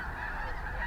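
Snow geese honk in a faint, brief burst of overlapping nasal calls that sounds fairly distant over a soft background.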